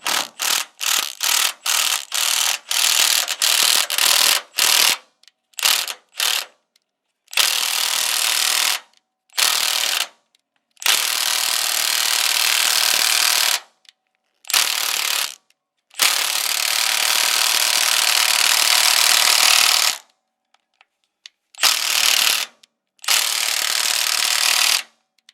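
A hand ratchet works loose the 5/8 bumper mount bolts on a 1965 Ford Mustang, loud close rapid clicking in repeated runs, quick short strokes at first and then longer sustained bursts with brief pauses between.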